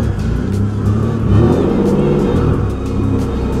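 A car engine rumbles at low speed as it climbs over a hump into a garage, a steady near drone with a slight swell in revs midway.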